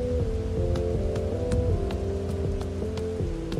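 Rain falls in the video game Bugsnax as a steady, soft patter with scattered drop ticks, mixed under a sustained, slow musical tone.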